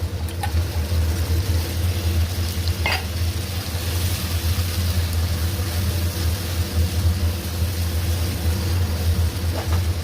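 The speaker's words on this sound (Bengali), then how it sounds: "তারপর আগে থেকে কেটে রাখা গাজর, ক্যাপসিকাম, বিনস দিয়ে একটু ভেজে নেব।" Carrots, capsicum and beans fry in a pan with a steady low hiss and crackle that runs throughout, along with a constant low rumble and a couple of faint clinks.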